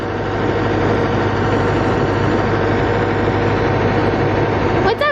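A tractor engine idling in a muddy barnyard, a steady low rumbling drone close by and unbroken throughout, with a brief higher sound at the very end.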